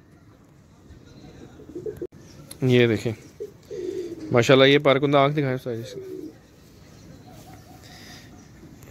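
Pigeons coo in a pigeon loft where breeding pairs are kept, soft and low, with someone talking nearby over most of it.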